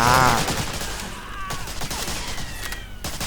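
Bursts of rapid video game gunfire from Medal of Honor: Breakthrough crackle in a fast, sharp fusillade, with scattered shots and game-like effects following, loud and close.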